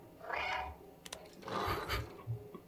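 A cat meows in the video game Stray, two drawn-out cries close by with a quiet thump between them.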